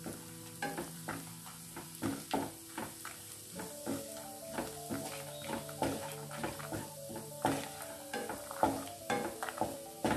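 Onion, dried red chillies and a small piece of tamarind stirred in a hot pan while making onion chutney, with repeated spoon scrapes and a soft sizzle in a steady rhythm, close and moderately quiet.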